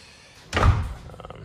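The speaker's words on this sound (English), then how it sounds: "So yeah, door latches nicely." A garage door fitted with security hinges swings shut with a single solid thump, followed by a few quick metallic latch clicks as it catches, heard up close and alone.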